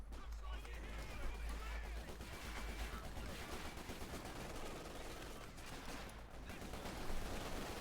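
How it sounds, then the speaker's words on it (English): Small arms gunfire in the Company of Heroes 2 strategy game, a dense, continuous crackle of rifle and machine gun fire during an infantry skirmish, steady and mid-distance with no clear voices. "All sorts of small arms going off here."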